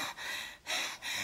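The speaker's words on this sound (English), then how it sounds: "Do the breathing." Someone takes a sharp, close breath in during an anxiety breathing exercise. The airy rush comes in two quick pulls with no talking.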